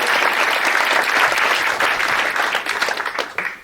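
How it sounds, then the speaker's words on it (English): A crowd at an event claps loudly and continuously, then breaks into scattered, tapering claps near the end. "Round of applause for Jacob."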